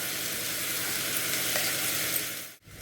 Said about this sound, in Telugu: ఉల్లిగడ్డ అప్పుడు కొంచెం ఫ్రై అయింది, ఇప్పుడు కొంచెం ఫ్రై అవుతుంది.